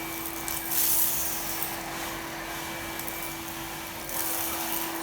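A Henry cordless vacuum cleaner runs on its low setting, a steady whirring hum with a constant tone and light rushing suction, close by, with brief swells as debris is pulled in.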